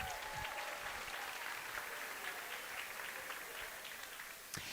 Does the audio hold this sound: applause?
yes